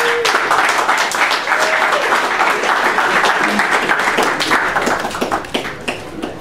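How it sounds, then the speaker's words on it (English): A room of hackathon participants applauds themselves, a loud, dense burst of clapping that holds steady and then thins into scattered individual claps near the end. "let's all give ourselves a round of applause for this."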